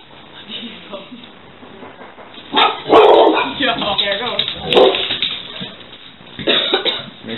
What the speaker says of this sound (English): so dog barking